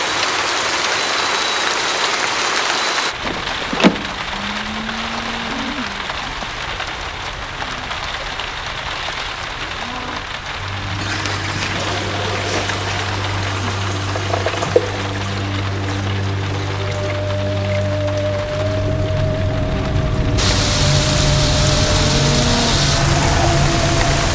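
Rain pours steadily, a broad continuous hiss of falling water with occasional thumps and a low engine-like hum joining partway, holding at a moderate level throughout.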